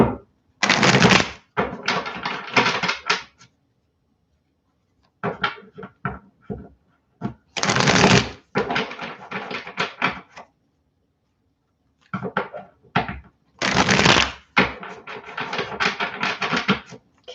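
Tarot cards are riffled and shuffled in three bursts of rapid flapping and clicking, separated by short pauses, close up with no talking.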